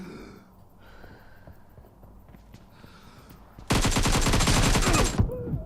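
Automatic gunfire rattles in PUBG Mobile, a loud, rapid burst of shots lasting about a second and a half after quieter game ambience with faint breathing.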